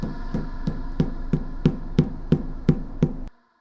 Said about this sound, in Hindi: अचानक ट्रेन में एक जोरदार आवाज आई जैसे कोई भाग रहा हो।